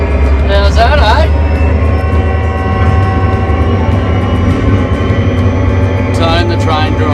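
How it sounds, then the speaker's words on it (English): Heavy diesel locomotive engine rumbling loudly and close as the train pulls away, a deep steady drone throughout with a voice talking briefly near the start and end. "Give it a little bit of rev, back it on, put it in forward, and we're moving."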